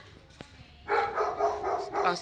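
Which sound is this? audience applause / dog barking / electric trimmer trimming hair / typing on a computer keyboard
dog barking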